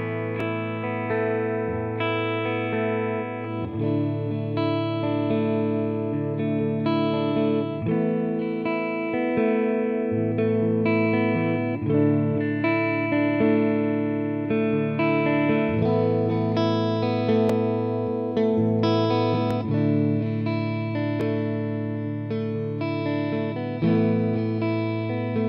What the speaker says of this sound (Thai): ผมจะเล่นไล่ตั้งแต่เสียงคลีนเสียงแตก